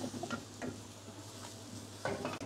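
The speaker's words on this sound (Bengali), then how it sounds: "আমড়াগুলো দেওয়ার পর জাস্ট 2-1 মিনিট এভাবে নাড়িয়ে নেবেন" Hog plums being stirred as they fry in a pan, a few sparse spatula scrapes over a faint, steady sizzle, quiet and close with no talk.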